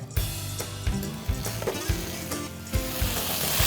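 Curry with garam masala sizzling in oil in a pan while being stirred, a continuous close frying hiss punctuated by repeated knocks and scrapes of a spatula at an irregular rhythm, no one talking.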